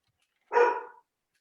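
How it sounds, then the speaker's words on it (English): A single short dog bark, clear and moderately close, isolated in an otherwise quiet room. "Sorry about my dog."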